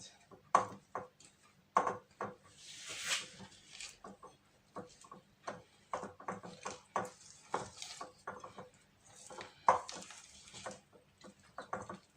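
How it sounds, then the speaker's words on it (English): A spatula mixes butter cookie dough in a bowl, producing repeated close knocks, scrapes and clinks against the bowl in an irregular rhythm, with no voices. "You have to mix it a bit together with my spatula."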